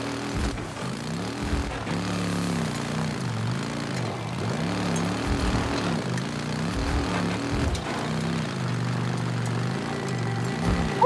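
A motorcycle engine in Days Gone drones steadily, its pitch wavering up and down as the bike speeds and slows, loud and close with no talking.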